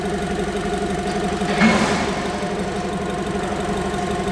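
A BMW X1 engine idles steadily after a valve cover gasket repair, a close, continuous mechanical hum with a faint ticking texture and a brief swell partway through, no talking.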